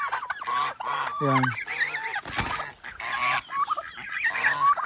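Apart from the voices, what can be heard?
geese honking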